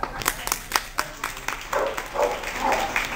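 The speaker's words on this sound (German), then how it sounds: "Applaus!" At an award ceremony, a small group claps for a fifth-place finisher, with distinct separate claps at first, then softer, thinner clapping mixed with faint murmur and a voice.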